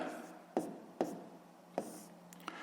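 Pen strokes write out a sixth-grade math problem on paper, a few short, quiet scratchy taps and scrapes spaced apart in a hushed room.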